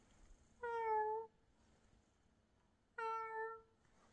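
A person imitates a cat meowing, giving two clear, drawn-out meows separated by a short pause, heard alone in a quiet room.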